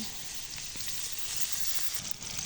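Onions fry in oil in a pan, giving a continuous, airy sizzling hiss at moderate volume, with faint crackles and occasional stirring scrapes and no talking.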